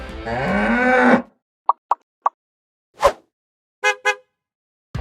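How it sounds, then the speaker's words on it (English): Cattle on a road in Georgia: one long, loud, close moo opens, followed by silence broken by short clicks, a soft thud and a couple of brief calls. "cows on the road"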